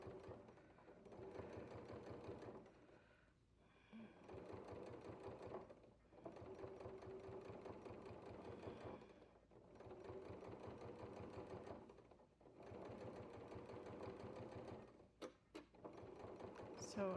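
A sewing machine runs a scant line of stitching on watermelon-print fabric for McCall's 8449, in steady rapid bursts separated by short pauses, with a quiet voice speaking over it.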